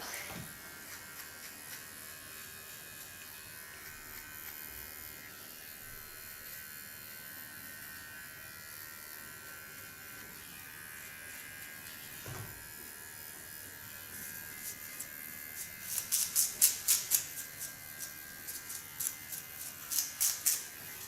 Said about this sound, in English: Now I take the smallest clipper I have to clean the contour lines.